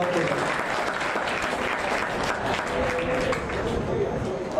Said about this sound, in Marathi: आपण याच्या तिकडे टाळ्या वाजवूयात